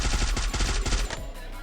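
Rapid automatic gunfire in the Free Fire game, a quick string of loud close shots lasting about a second before cutting to a lingering tail.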